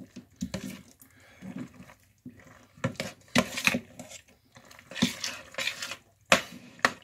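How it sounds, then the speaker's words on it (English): Macaroni and cheese stirred in a pot, with irregular clinks, scrapes and wet squishes as a utensil works through the thick pasta, close up and with no talk. "Now mix it all together."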